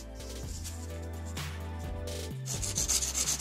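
A medium-grit 150/180 nail file rubs back and forth across gel nails, making a close, continuous dry rasping that grows slightly stronger toward the end.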